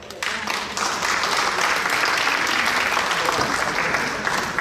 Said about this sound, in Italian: Grazie ancora, un applauso.